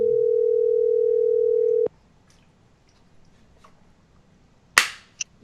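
A steady telephone dial tone hums loud and close for about two seconds after a call is hung up, then cuts off, leaving faint clicks and a couple of sharp handling knocks.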